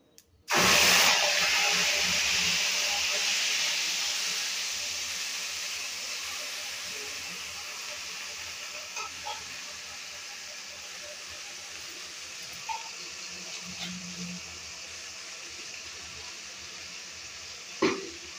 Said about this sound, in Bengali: ফোড়নগুলো হয়ে গেছে, এবার আমি এর মধ্যে দেব আদা রসুন আর পেঁয়াজের পেস্টটা